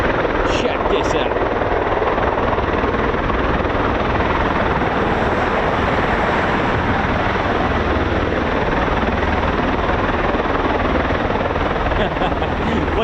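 A US Air Force MH-47G Chinook helicopter at RAF Mildenhall gives off a loud, continuous rotor roar close by, with the thump of the blades steady throughout.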